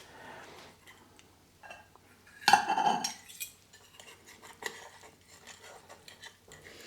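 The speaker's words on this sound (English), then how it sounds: "Fork and a very large tablespoon, and I'll move it into a dish." Spaghetti tossed with a fork and a large tablespoon, then moved into a dish: soft scraping and intermittent clinks of metal against the bowl, with one louder burst of clatter, close up and without speech.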